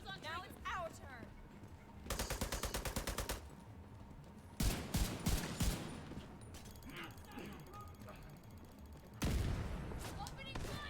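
Bursts of gunfire in The Division 2, with rapid machine-gun volleys and heavier single shots coming in separate loud clusters, and quieter gaps and faint game sounds between them.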